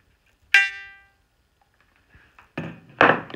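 A tiny free reed from an accordion under restoration rings out once with a bright harmonic-rich buzz that decays over about half a second, followed by a few louder dull knocks and handling thumps.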